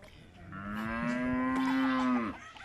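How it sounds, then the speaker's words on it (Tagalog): A cow on a farm in Bayshore gives one long, loud moo lasting about two seconds, sounding close by with faint background noise before and after. "Moo!"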